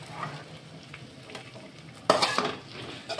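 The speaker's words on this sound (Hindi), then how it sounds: "टमाटर भी इसी के साथ भून लेंगे, भी सॉफ्ट होने तक भूनेंगे।" Tomatoes and onions fry in a pan on a gas stove, with a soft crackle that turns into a loud burst of sizzling and stirring partway through, and no talking.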